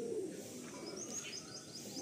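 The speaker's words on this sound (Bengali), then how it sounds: "এটা কি দাদা অন্ধ্রা পায়রা? হ্যাঁ, আন্ধ্রা ক্রস আছে।" Andhra cross pigeons coo in a loft, soft low cooing mixed with thin chirps and light background noise, quiet and steady.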